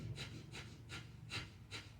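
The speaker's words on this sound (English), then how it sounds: "Exhale out the nose. This is Kapalabhati breathing for extra energy." Five sharp, rhythmic nasal exhales of Kapalabhati yoga breathing come about every 0.4 seconds. They are quiet and close, with no talk over them.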